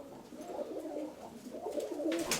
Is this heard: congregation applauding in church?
no